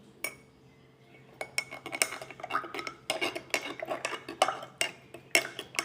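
A spoon stirs yeast into milk in a bowl, giving a run of quick clinks and scrapes against the side, with irregular taps that grow busier after a quiet start; close and fairly soft, with no talking.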